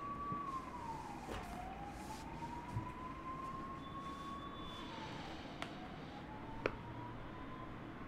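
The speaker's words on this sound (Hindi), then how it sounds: "कोई डिस्टर्बेंस अभी बैकग्राउंड से आ रहा होगा एम्बुलेंस की आवाज़ के अलावा" An ambulance siren wails faintly in the distance, slowly rising and falling over a low hum of traffic, with a couple of small clicks nearby.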